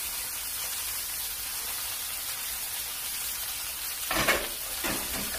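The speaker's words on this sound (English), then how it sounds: "Our pan's nice and hot. We're going to add our spinach" Fresh spinach goes into a hot pan with garlic, and a steady hiss of sizzling fills the scene, broken near the end by a couple of louder crackling bursts as the leaves hit the oil.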